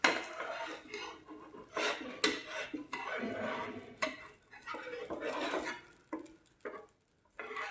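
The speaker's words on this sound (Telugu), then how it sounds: "ఎరుతలు తిప్పుకొని మరి 1 నిమిషం కాల్చుకోవాలండి." A pesarattu moong dal dosa is flipped and cooked on a pan, with scraping, tapping spatula and utensil clatter in irregular bursts, close and moderately loud, under faint talk.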